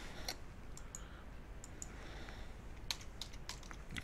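A computer keyboard is typed on in short, sparse bursts of faint clicks and taps, with no voices.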